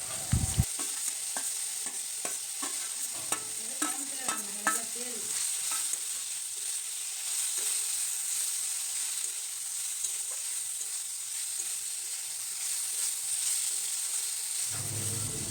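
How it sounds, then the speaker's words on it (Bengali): Okra and potatoes stir-fried in spicy masala, with spoon scrapes and clatter against the pan early on, then a steady soft sizzle and hiss that carries on evenly until it cuts out near the end. "তারপর ভেজে রাখা ভেন্ডি আলুগুলোকে দেওয়ার পর ভালো করে কষিয়ে নিতে হবে।"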